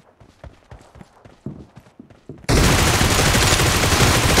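Gunfire in BGMI team deathmatch: scattered sharp shots over the first half, then a sudden loud, dense and continuous burst of rapid fire that fills the rest.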